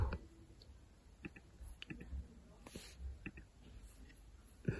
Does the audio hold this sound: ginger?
no